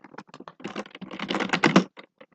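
Rapid, close keystrokes on a computer keyboard while code is typed in during an ASP.NET MVC programming lesson, with an uneven patter that speeds up into a denser run before tapering off.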